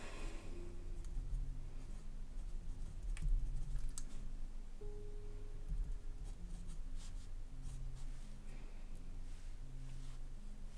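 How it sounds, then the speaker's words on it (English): Quiet scratching of a Kaweco fountain pen writing on paper, soft irregular strokes continuing steadily at close range with no talking. "And I'll just write this out and then I'll tell you."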